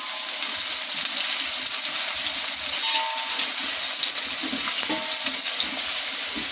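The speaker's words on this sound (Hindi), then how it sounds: "प्याज को हल्के सुनहरी कलर की, ब्राउन कलर की हमें इसको करना है, तलना है।" Onions fry in a large quantity of oil over low heat for a beef degi korma, giving a loud, steady, dense sizzle that runs unbroken throughout with no voices.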